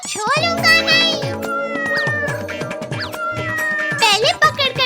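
A cat meows repeatedly in a home comedy sketch, loud and close, with drawn-out yowls mixed in among children talking and household noise.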